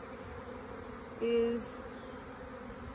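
Honey bees buzzing during the installation of a new hive, a faint steady hum with one bee droning loudly past the microphone for a moment; a brief spoken word is heard.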